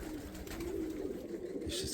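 Pigeons coo in low, soft, rolling calls, close and continuous, with faint rustling behind them.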